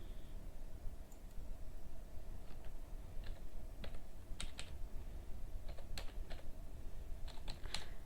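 Scattered keystrokes tap on a computer keyboard at an uneven pace, some in quick pairs, close and fairly quiet over a steady background hiss.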